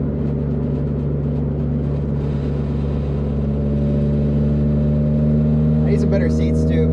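Interior drone of a Honda Civic EK fitted with coilovers, driving along with a loud, steady low engine hum and road noise throughout, and brief voice near the end.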